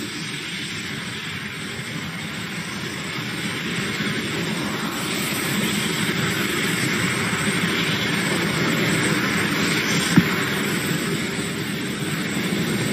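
A SpaceX rocket's first stage engine burns past max Q during launch, a steady broad rumbling roar that holds constant and slowly builds, with no talk over it.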